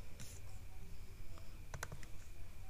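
Keys clatter on a computer keyboard in a quick, uneven burst, ending with a firmer press of the enter key, close and fairly quiet over a low room hum.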